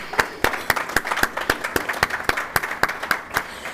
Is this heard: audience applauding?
yes